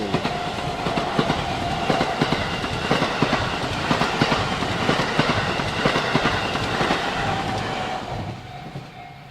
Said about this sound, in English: Here's the local train.